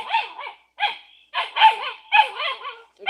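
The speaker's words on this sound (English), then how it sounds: "They're just standing there barking behind me for no reason." Several dogs barking indoors, a series of sharp, loud, close barks in quick bursts with brief gaps between them.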